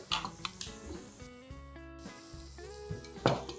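Curd is stirred into sizzling chopped-tomato masala in a pan for a soya chaap tikka biryani, giving a low frying hiss with a few utensil scrapes beneath prominent background music.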